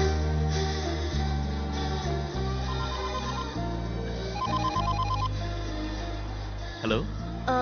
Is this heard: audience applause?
no